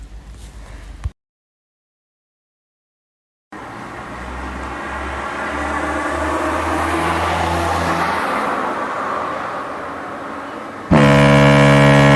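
In a drama scene on a road, a car horn blares loudly near the end from a car behind, with steady traffic and engine rumble building beforehand after a brief silence.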